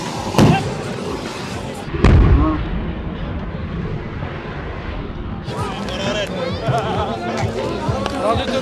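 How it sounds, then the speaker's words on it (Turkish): A car hose bursts while drifting at a fair, giving two sharp bangs near the start amid engine noise, crowd chatter and voices. "Hortum patladı önemli bir şey yok."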